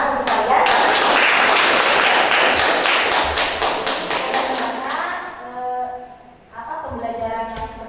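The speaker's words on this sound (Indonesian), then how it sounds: "tepuk tangan untuk kalian" Students in a classroom applaud in a dense, lively round of clapping that gradually thins out, followed by voices talking.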